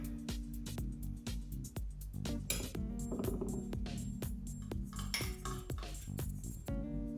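Ice cream scooped for a bourbon float, with a metal scoop clinking and scraping against a dish in a series of close, irregular knocks and taps.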